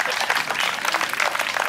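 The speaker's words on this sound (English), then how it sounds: "It's sad we have to applaud for research" Audience applause at a Labor Day gathering in Woodstock, a steady dense patter of many hands clapping at moderate distance, continuous and even for the whole stretch.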